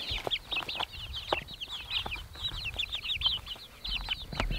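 A flock of backyard chickens clucks busily nearby, with overlapping chirpy calls and soft clucks in a constant rhythmic chatter.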